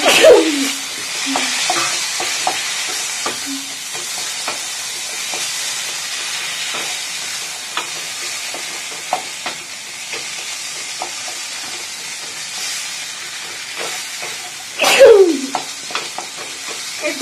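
Chopped tomatoes fry in a pan with turmeric-coated spices, giving a steady sizzling hiss under repeated light scraping stirs, close up, with a louder burst of sizzle near the end as more goes in.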